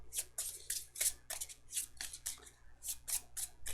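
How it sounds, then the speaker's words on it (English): Board game cards for Too Many Bones are riffle shuffled in quick repeated bursts of crisp, close fluttering snaps with short pauses between, no voices. "one more riffle shuffle"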